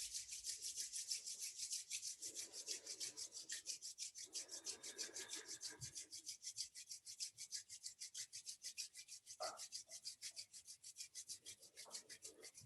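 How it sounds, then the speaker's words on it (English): Palms rubbing briskly together during a Kundalini yoga practice, a faint, steady rasping rhythm that continues alone without pause. "Let's bring our palms together and rub them together."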